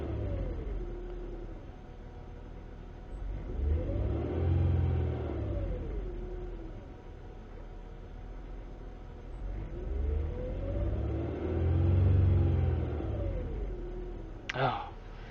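A car engine idling and revving after a misfire has cleared, two swelling rises in pitch and rumble that fall back to a steady idle, heard from inside with a faint chime near the end.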